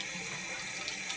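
Tap water running steadily into a sink for washing hair, a continuous close hiss and splash with no talk.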